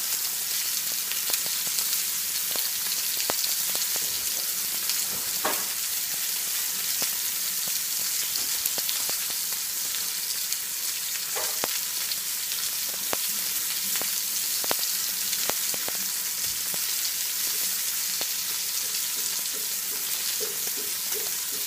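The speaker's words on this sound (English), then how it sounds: "And they're sizzling." Ribeye steaks sizzle in a hot pan with a constant, dense crackle and spit, broken by scattered sharper pops and no talking.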